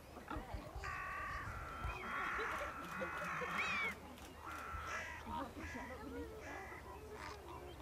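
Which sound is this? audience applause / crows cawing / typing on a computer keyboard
crows cawing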